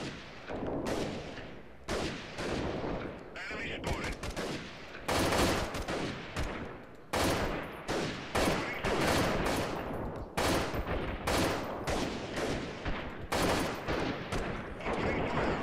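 Gunfire in the guerrilla warfare video game Freeman: Guerrilla Warfare, with dense, continuous bursts of rifle and automatic shots cracking loudly and close, rising and dropping in rapid volleys throughout.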